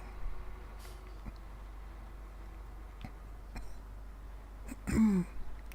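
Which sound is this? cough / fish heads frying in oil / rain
cough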